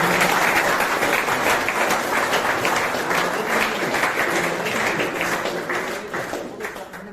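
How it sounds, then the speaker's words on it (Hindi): Loud, dense applause from an audience at an Independence Day celebration held at a rehabilitation centre, sustained steadily for about seven seconds and tapering slightly toward the end. "एक बार और जोरदार तालियों से स्वागत करें"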